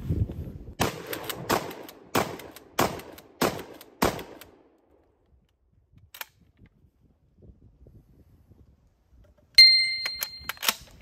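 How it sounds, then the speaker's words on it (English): A G Force GFP3N shotgun fires birdshot shells in a string of six sharp, loud shots at a steady rhythm, followed by quieter handling noises and a bright ringing ding near the end. "going to switch over to birdshot and then back to slugs to finish out the 75 shells"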